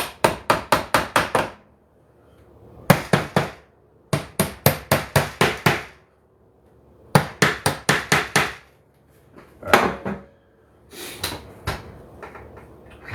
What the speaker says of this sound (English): Next, I need my hammer to knock these things in,